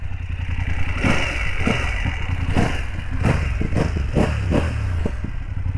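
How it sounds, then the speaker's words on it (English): A 2024 BMW F900 GS Adventure motorcycle idles steadily just after starting, a low engine hum close by with clattery pulses and small revs repeating through the clip. "We just started the bike."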